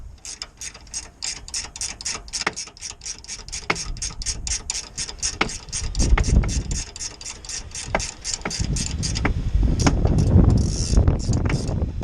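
Rapid ratchet clicking from a wrench loosening the 17mm track rod nut on a Ford Fiesta Mk6, a steady run of close, sharp clicks that slows and roughens toward the end as the nut turns more freely.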